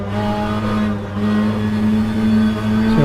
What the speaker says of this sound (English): You hear them feather the throttle through that corner.